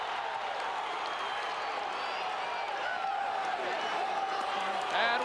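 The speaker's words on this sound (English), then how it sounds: "The Iowa fans in the crowd going crazy" A crowd of Iowa fans roars and cheers at a college wrestling match, a dense, steady wash of voices and applause that stays loud throughout, with a few sharper shouts near the end.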